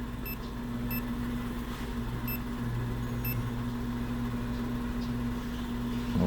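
A 2021 Suzuki Spresso with a 1.0-litre K10B engine, fitted with an A91 OBD2 gauge set to a coolant alarm, gives out four short, sparse electronic beeps over a steady low engine hum.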